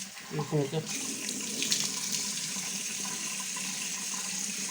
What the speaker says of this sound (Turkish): Süngerimi yıkayayım.